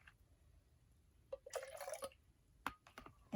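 Liquid poured from a bowl into a glitter jar: a few short splashy pours and trickles with drips between quiet pauses, close and fairly soft.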